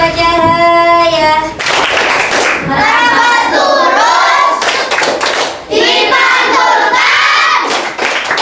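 Children clap in rhythm while chanting together in Indonesian about the properties of light, lively group voices and steady hand claps filling a classroom, close and loud throughout.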